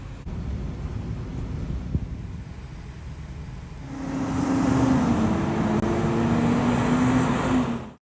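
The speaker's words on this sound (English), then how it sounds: "There is somebody revving their engine to rush the people." A car engine revs at a Circle K gas station in East Bradenton after Hurricane Milton, a rising mid-pitched roar swelling in over wind-buffeted background noise and holding for a few seconds before cutting off.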